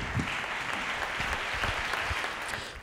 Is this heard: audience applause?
yes